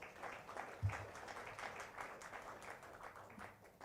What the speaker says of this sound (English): An applause to her, please.